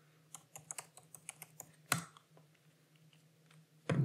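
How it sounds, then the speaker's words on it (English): Keys on a computer keyboard clicked in a quick, uneven run while entering sign-in details, each tap light and close, with a brief louder knock partway through and a low steady hum beneath. "So we'll type in my details here."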